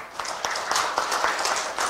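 A studio audience at a Korean talk show on military guardhouse reform claps to welcome a Marine Corps veteran guest, a scattered round of hand claps with sharp, uneven hits over about two seconds.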